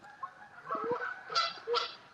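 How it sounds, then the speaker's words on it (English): Canada geese honking outdoors at a multicultural glacier celebration, two loud nasal honks standing out late in the clip above softer background calls, with no talking. "So you have all these beautiful Canadian geese here in the background, if you can hear them."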